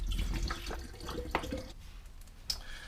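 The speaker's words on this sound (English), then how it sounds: "take the bottle of water, if it's full, and just empty it out." Water glugging and splashing out of a plastic bottle as it is emptied, close and moderately quiet, with a few louder drips and splashes toward the end.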